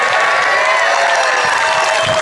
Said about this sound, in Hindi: दिल्ली तक जाए आपकी तालियों का शोर